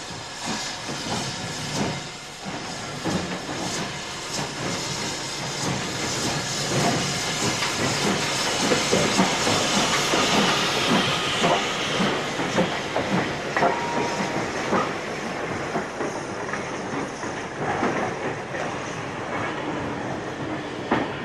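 British Railways steam locomotive 73050 City of Peterborough works hard on the Nene Valley Railway, making a continuous loud hiss of steam with rhythmic chuffing and rolling rail noise.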